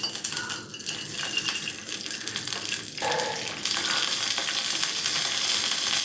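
Mustard seeds crackle and sizzle in hot oil while being tempered for a hotel-style idli sambar, a steady close frying hiss that grows denser and brighter toward the end.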